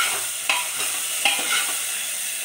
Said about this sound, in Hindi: अब आप इसमें आलू, गोभी, गाजर और मटर चारों साथ में डाल दें और इसे एक बार फिर से चला लें